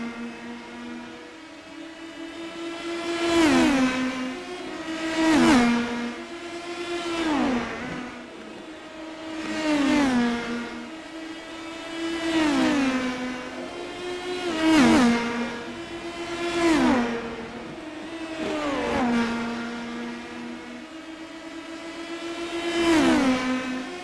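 Indy Pro 2000 race cars in the iRacing sim at Lucas Oil Raceway Park scream past one after another, each high-revving engine note swelling and dropping in pitch as it goes by, with roughly eight passes in steady succession and no talk.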